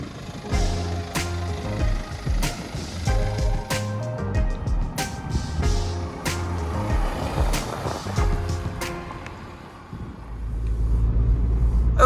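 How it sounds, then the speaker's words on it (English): A BMW 120d M Sport drives near Table Mountain, its diesel engine rumbling steadily with rises in revs, accompanied by clicks and knocks from inside the cabin, loud and close. "we are taking a bit of a drive now in the 1 Series"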